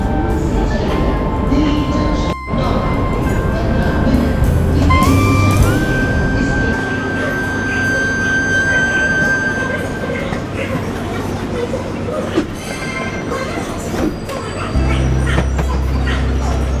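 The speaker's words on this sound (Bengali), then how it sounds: "নিউ দিল্লি শিয়ালদা রাজধানী এক্সপ্রেস পুনরায় চলতে শুরু করে" The New Delhi–Sealdah Rajdhani Express passenger train rumbling steadily along the tracks, loud and close, with a long high-pitched squeal or whistle partway through and people talking underneath.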